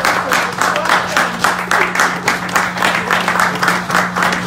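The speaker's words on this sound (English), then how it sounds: "give my round of applause" A small crowd at a live political fundraising event claps in a steady, slightly rhythmic patter, fairly close and loud, with a low electrical hum underneath.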